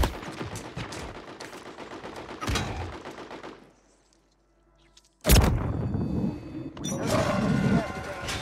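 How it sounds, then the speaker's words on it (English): Rapid bursts of automatic gunfire in Warzone, a battle royale video game, rattle loudly in two dense stretches separated by a brief near-silent gap, with a sharp blast restarting the shooting. "Oh, I got shot from down low."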